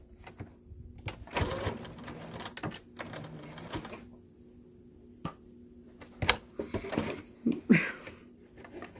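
A sewing machine stitches a fabric face mask in short bursts of rapid mechanical whirring, with pauses between runs as the seam is backstitched, fairly close and moderately loud.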